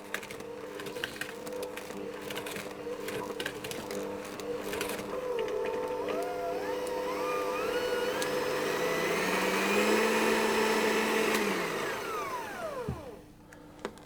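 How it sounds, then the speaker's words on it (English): Electric mixer beating dry ingredients for a sultana oat cookie pie, a steady whirring motor hum with whining pitch that swells and shifts before cutting off near the end. "I can actually use my mixer, and I will just mix those until they're almost combined."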